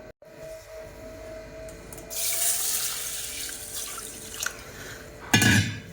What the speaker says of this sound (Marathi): 1 ते 2 पाण्याने आपल्याला हे तांदूळ आणि डाळ स्वच्छ धुवून घ्यायचे आहेत